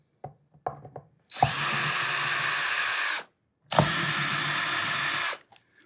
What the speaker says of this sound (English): I'm going to flip the guitar back over and remove all the pickguard screws